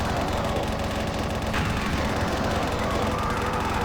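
Rapid, sustained gunfire from the super chain gun in Doom II, fired at arachnotrons during the Valiant mod's Map 29. The firing is dense and continuous with no pauses, steady and loud throughout, with nothing heard but the shooting.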